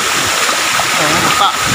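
Water pours steadily down Lumondo falls in Alegria, a loud, continuous rushing broadband wash with wind mixed in and a person's voice faintly under it.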